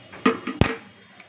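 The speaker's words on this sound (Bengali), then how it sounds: "এই যে কালো জিরে যে ফোড়নটা দিয়েছি না, এইবার এইটাই যে ঘুরিয়ে দিলাম।" Nigella seeds tempering in a pan being stirred, three quick metallic clinks of a utensil against the pan, the last the loudest, over a faint background sizzle.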